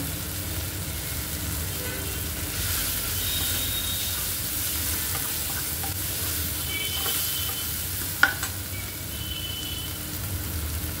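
Onion and tomato masala for eggplant bharta sizzles steadily in a hot pan, a continuous frying hiss with occasional stirring scrapes and a single sharp clink.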